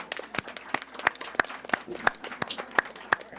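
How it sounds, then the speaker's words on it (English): Light, sparse clapping from a modest audience at an AI in education symposium after a presentation. Individual claps stand out clearly against a quiet room, moderately near. "So I think we all owe Anne another round of applause for a great presentation"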